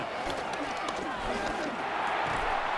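Stadium crowd in the Madden NFL 26 football video game, a steady, dense roar of many voices that stays fairly even throughout, with no clear speech on top.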